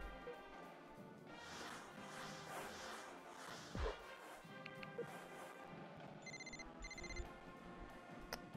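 Telephone ringing in the NCAA Basketball 10 video game during a recruiting phone interview, heard as a couple of short electronic ring bursts near the end, over a busy background of game music and sound effects.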